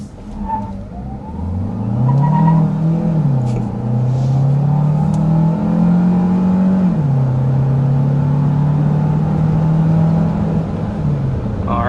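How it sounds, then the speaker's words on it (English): A 2026 Kia Carnival minivan engine pulls hard under full-throttle acceleration up to 60 mph, loud and close from inside the cabin, its drone rising in pitch through gear shifts with a steady road rumble underneath. "we need to go ahead and start with a hard acceleration"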